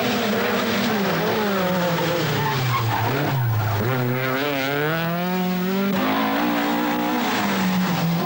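Rothmans Opel Ascona rally car driven by Henri Toivonen at speed on the 1982 Manx Rally, its engine note loud and close, rising and falling through gear changes with a continuous sweeping harmonic whine.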